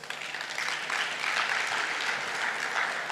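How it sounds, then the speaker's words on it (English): An audience at a Lagos housing pledge event applauds steadily, a dense, even wash of many hands clapping with no talk over it. "That's why they are clapping."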